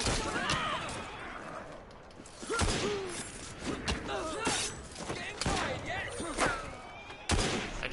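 Gunfire in Assassin's Creed Syndicate, sharp scattered shots and impacts cracking through a chaotic street fight, with voices talking and shouting over the clatter.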